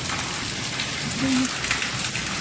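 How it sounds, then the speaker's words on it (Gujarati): Steady rain hisses across the whole span, a dense broadband wash with a few louder drips and splashes, close by and fairly strong. "એટલે આટલો બધો વરસાદ છે"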